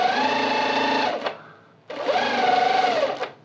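Sewing machine hemming a dress shirt runs in two close, steady bursts of rapid stitching, about a second each, with a short pause and a small click between them and no talk over it.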